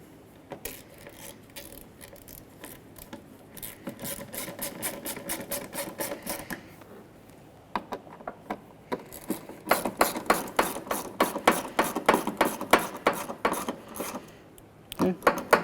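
Screws are driven in by hand while a blower motor resistor is fitted in a Chevy Express van, making a series of quick, close ratcheting clicks that speed up and get louder toward the end.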